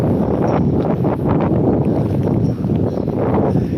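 Strong, blustery seaside wind on a wet day at Withernsea buffets the microphone, a loud continuous roar with gusty swells and no voices.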